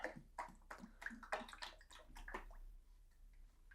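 Stone Coat epoxy resin pours into a mold in a workshop, a close run of irregular wet glugs and splatters that trails off into a thinner trickle.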